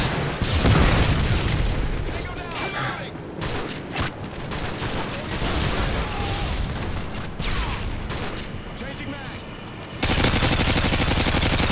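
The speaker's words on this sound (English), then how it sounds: "Friendly Predator missile incoming." Predator missile strike in the video game Call of Duty Modern Warfare 2, a dense barrage of booming explosions and gunfire mixed with game effects, loud and continuous, ending in a harsh buzzing burst.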